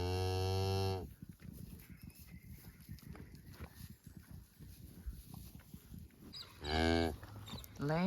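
A mother cow with her newborn calf lets out a loud, long moo at the start and another near the end, with rustling and shuffling movement in between.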